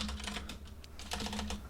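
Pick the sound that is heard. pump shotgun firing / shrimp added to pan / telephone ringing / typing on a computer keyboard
typing on a computer keyboard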